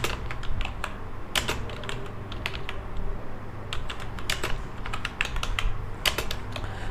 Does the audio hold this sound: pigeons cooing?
no